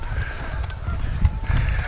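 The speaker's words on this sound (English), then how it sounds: "We got geese and ducks going nuts over here in the retention pond." Geese and ducks honk noisily at a hotel retention pond in Florida, a close, busy cluster of short, brassy calls with a few louder honks near the end.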